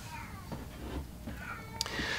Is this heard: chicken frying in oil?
no